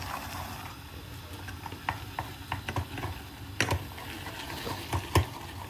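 Powder being stirred into a mixture in a pot, giving a run of soft scraping and clicking strokes, with a few sharper knocks near the end, fairly close and without talk.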